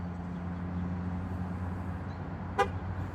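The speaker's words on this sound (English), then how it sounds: "you get that honk, which means that it took the TPMS Relearn." A single short truck horn toot from a Chevy Silverado or GMC Sierra pickup sounds once near the end over a low steady engine hum, brief and moderately loud, confirming a tire pressure monitor relearn.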